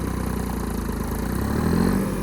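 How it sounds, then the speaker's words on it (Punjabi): A Massey Ferguson 9500 4WD tractor engine runs steadily at close range, a loud, even diesel throb with a regular pulsing rhythm and no talking over it. "ਆਵਾਜ਼ ਸੁਣੋ ਟਰੈਕਟਰ ਦੀ"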